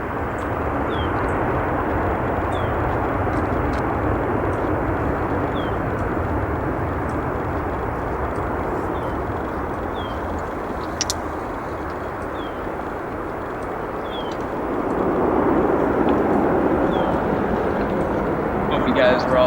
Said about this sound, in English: Nice landing there on 10 center.